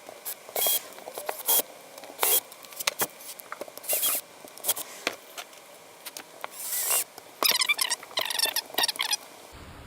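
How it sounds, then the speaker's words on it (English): Screws being removed from a $5 RC buggy, heard as a run of small close clicks, taps and scratchy plastic rattles in irregular bursts, with no talking. "I'll start removing screws here."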